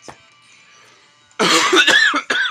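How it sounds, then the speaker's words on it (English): Several harsh coughs in a quick burst after a quiet stretch, loud and close, with a brief pause before a final cough. "Sorry about all the coughing again"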